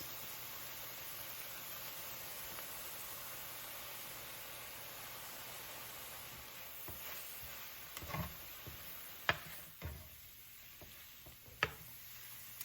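Onions and mushrooms frying in a pan as flour is sprinkled over them, a soft steady sizzle and hiss with a few sharp clicks and scrapes of a utensil near the end, faint and close.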